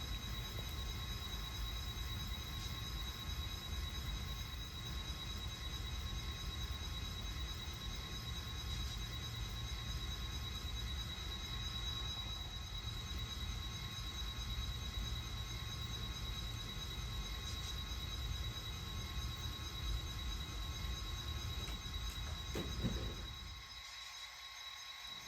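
Santa Fe passenger train moving slowly onto the main track, a steady low rumble of rolling wheels with faint metallic squeals and tonal hums, fairly quiet and continuous before easing off at the end.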